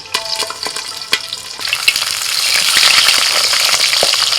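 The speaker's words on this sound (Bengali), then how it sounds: "চারিদিকে তেল ছিটকে কি অবস্থা দেখুন, কত দূর পর্যন্ত তেল ছিটকাচ্ছে।" Big pabda fish frying in mustard oil, a steady close sizzle that swells louder, peppered with sharp pops and crackles of spattering oil, with no voices.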